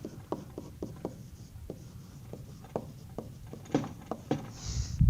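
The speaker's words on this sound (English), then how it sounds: "But we can write it down." During a physics lesson, a pen or marker writes out an equation in a string of quick, scratchy strokes, each one distinct and close, continuing in an uneven rhythm.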